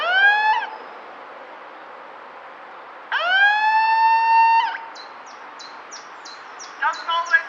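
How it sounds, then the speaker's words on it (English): Megaphone siren on full volume, a loud rising wail that cuts off, then a longer sustained wail, followed by a run of short rapid chirping bursts at the end. "This is one long, short, siren test."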